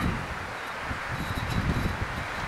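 Steady gusting wind of about 5 to 15 mph buffeting outdoors in a Virginia residential area, a continuous broadband rush with slight swells, no voices.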